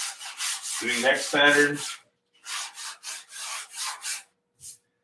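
A wooden piece is sanded flat by hand in a series of short rasping strokes, close and fairly loud, with brief speech partway through.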